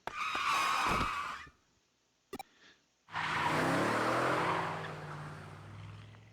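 A loud truck skid from a video game (Digimon Cyber Sleuth) bursts out, stops abruptly, then after a brief quiet a long screeching slide with low engine rumble follows, no talking.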